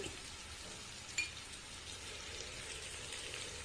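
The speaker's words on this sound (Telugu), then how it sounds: "మీడియం ఫ్లేమ్లో దీన్ని దోరగా వేపుకోండి" Onions salted and frying in a pan over a medium flame, a soft steady sizzle with one brief tick partway through, with no talking.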